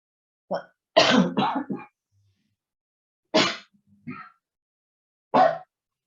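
A lecturer coughs during an online lecture: a short cough, then a rapid cluster of harsh coughs, followed by a few more single coughs spaced apart, all close to the microphone.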